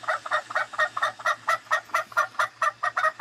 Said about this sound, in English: to make the wings move and the turkey to cluck. And I think I can live with that clucking.